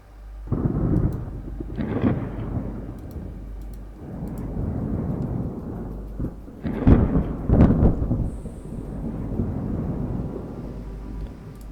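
A thunderstorm rolls over the rough sea in the naval game Ultimate Admiral Dreadnoughts, with heavy rumbling thunder in several swells and sharper cracks under steady rain.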